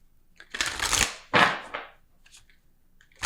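Spell casting oracle cards being shuffled up close, two crisp riffling bursts followed by a few light taps and flicks, with no talking.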